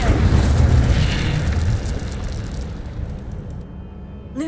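Incendio fire spell in the Hogwarts Legacy video game, a loud roaring burst of flame that decays over several seconds into a fading crackle, ending with a brief tonal chime.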